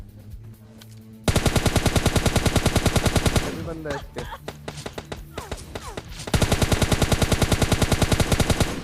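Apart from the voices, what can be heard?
gunfire in a video game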